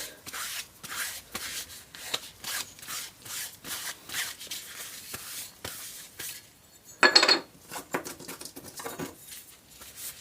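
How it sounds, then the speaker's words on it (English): A dry cloth wipes across a marine plywood surface in a workshop, making soft, repeated rubbing and patting strokes in an uneven rhythm, fairly quiet and close, with one slightly louder scrub near the end. "dry bit of cloth, and a wipe"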